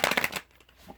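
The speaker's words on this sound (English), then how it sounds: "2 more shuffles. I'm using my Pro Tarot deck and my Voodoo Tarot deck" A tarot deck is shuffled in a quick close riffle lasting under half a second, a crisp burst of card flutter that stops abruptly and leaves near silence.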